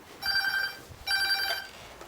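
A telephone rings twice, each ring a bright electronic trill lasting about half a second and separated by a short gap, fairly faint against a quiet room.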